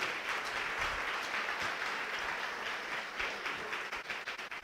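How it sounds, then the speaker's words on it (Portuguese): A church congregation applauding during a Portuguese-language service, a full, lively wave of clapping that thins toward the end into a few separate, distinct hand claps. "Você pode aplaudir o nome do Senhor?"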